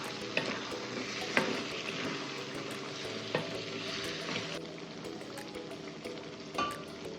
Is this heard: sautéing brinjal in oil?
yes